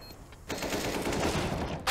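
Rapid automatic gunfire sprays in a continuous loud burst during a competitive tactical shooter match, close and sustained for about a second and a half after a short lull.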